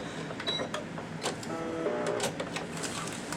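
A sewing machine runs a short reinforcement back stitch on a sleeve seam, a faint close mechanical whirr with ticking clicks, alone without talk.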